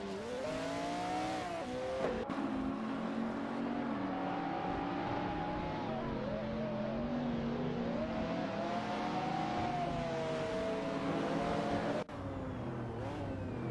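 AI-driven supercars, a Lamborghini and a Maserati among them, racing at Zolder in a video game: a continuous loud engine drone with rising and falling revs and gear shifts, the tone sweeping as cars accelerate, with no voices.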